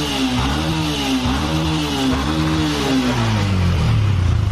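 A Yamaha Jupiter MX motorcycle engine, which has a faulty first gear and neutral and is smoking, revs in a workshop, rising and falling in pitch over a steady clattering idle, close and loud with no talking.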